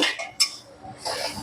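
A spoon clinks and scrapes against a metal pot as mutton with tomato paste is stirred, in oil-free cooking; a few close, short clatters separated by brief pauses.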